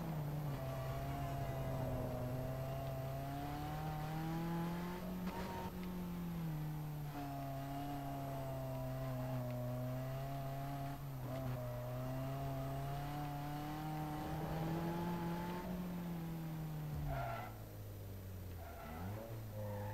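Steady engine drone of a car racing in the video game Need For Speed Most Wanted, with sustained revving whose pitch rises and dips, shifting gears and briefly dropping near the end, loud and continuous with no talk.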